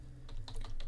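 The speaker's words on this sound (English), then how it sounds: "if I click Ctrl+F on my keyboard and try to find" A computer keyboard clatters through a few quick, close keystrokes in a short burst, as if pressing a shortcut, with no talk.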